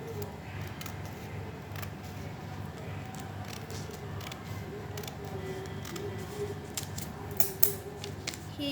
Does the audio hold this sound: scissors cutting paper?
yes